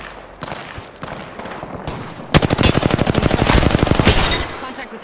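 Automatic gunfire in Apex Legends: a few scattered shots, then a long rapid burst of evenly spaced rounds, loud and close.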